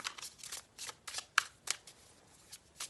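Playing cards being shuffled nearby in a series of crisp riffling bursts with short pauses between, fairly quiet and with no talk over them.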